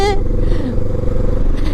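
A Honda motorcycle's engine and exhaust drone steadily while riding, a loud, low continuous rumble with wind noise, and a voice talks briefly over it.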